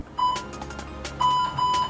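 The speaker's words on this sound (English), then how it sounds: "I'm going to start my timer." Workout interval timer giving short electronic beeps, one early and a pair of longer tones later, fairly loud over a faint room background with no talking.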